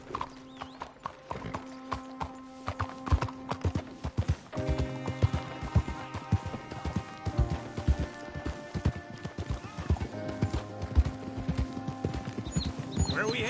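Horses gallop in Red Dead Redemption 2, hooves clip-clopping in a quick steady rhythm close by, with occasional snorts and whinnies and a background music score throughout.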